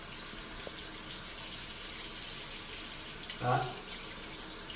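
Tap water runs steadily while the head of a galvanic spa facial machine is rinsed under it, a soft continuous flow with a short louder splash near the end and a brief spoken word.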